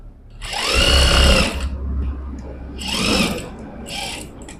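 A sewing machine stitches a pocket onto a shalwar in two loud, close bursts of whirring, the first about a second long and the second shorter, with a faint mechanical hum between them.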